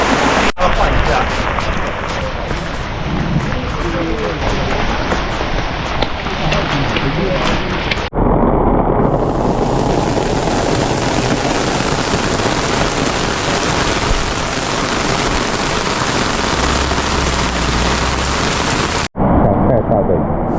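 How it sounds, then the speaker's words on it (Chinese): A sudden heavy rainstorm in Noboribetsu, Hokkaido pours down as loud, dense hissing rain, abruptly cutting between near and slightly muffled positions, with speech heard at times over the downpour. "突然之间暴雨说来就来， 暴雨"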